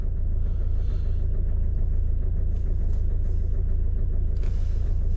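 Engine of a Citroën C4 Grand Picasso driving a test lap, a steady low rumble and road noise from inside the car, with a few brief higher whooshes and no talking.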